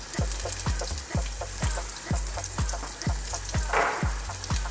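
Garlic and marjoram fry in a pan with a continuous close sizzle. Rhythmic thuds and scrapes from steady stirring run through it, and no one speaks.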